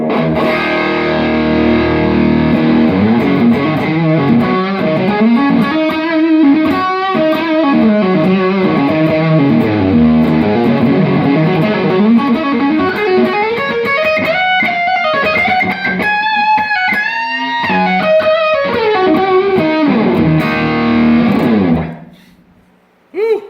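Electric guitar through a Mudhoney distortion pedal, heavily distorted, plays a thick, sustained melodic line for over twenty seconds, loud and alone, ending with a sudden cutoff.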